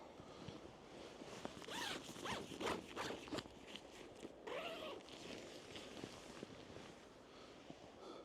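The zipper on a OneTigris Tegimen tent door is pulled open in several close, rasping strokes, with some rustling of fabric in a quiet outdoor setting.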